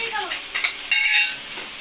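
Potatoes and dill fry in oil with red masala, a brief close sizzle broken by a couple of quick stirring scrapes in the pan.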